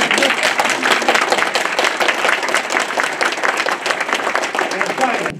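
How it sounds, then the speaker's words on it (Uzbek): Sustained applause from a large crowd fills a big hall at an awards ceremony, dense and continuous, with a voice speaking over it. "zalda yana bir qatim gulduras olqish yog'irdi."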